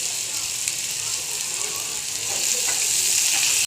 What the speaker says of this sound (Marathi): जिरे थोडेसे भाजले की आपल्याला टाकायचं आहे लसूण मिरची आणि टोमॅटो मीठ टाकायचं आहे